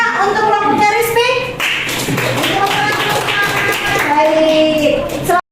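A classroom audience of students claps for a student group, loud close hand claps in a continuous run, with children's voices and chatter mixed over the clapping.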